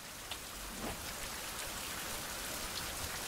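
Steady rain falls in a video game, a faint, even hiss of drops hitting the ground with no other sounds.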